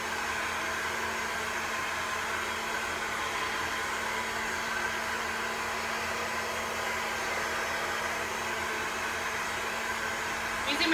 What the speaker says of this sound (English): Using my 413 sculpting brush to blow dry today